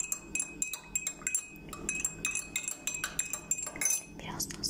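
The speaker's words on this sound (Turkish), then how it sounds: "Şimdi birazcık da karıştıralım hemen şeker kaşığımızla." A sugar spoon stirs lemonade in a glass, giving rapid, bright metallic clinks and taps against the sides in an uneven rhythm, close and fairly loud.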